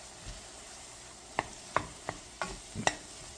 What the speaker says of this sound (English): we want to saute these just for a few minutes until they're a little soft and wilted and some of the moisture is cooked out of the mushrooms